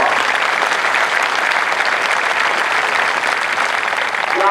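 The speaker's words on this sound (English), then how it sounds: "give me a round of applause" A large crowd at an Air Force basic military training parade applauds loudly for the instructors, a dense and even wash of clapping that stays strong the whole time with no speech over it.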